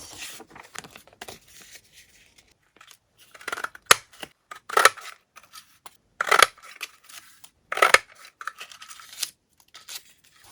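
Scissors snip paper squares by hand, giving scattered sharp cuts and a few louder crisp snips close by, with soft rustling and handling between them in a quiet room.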